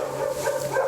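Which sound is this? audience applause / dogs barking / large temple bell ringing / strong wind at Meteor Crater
dogs barking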